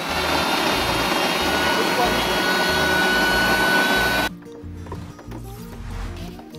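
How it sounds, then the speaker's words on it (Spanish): A blender whirring loudly as it blends grated coconut, a steady roaring motor that cuts off abruptly, after which a lower hum and people talking remain. "ahorita pues ya se fue a lo que es licuar el otro"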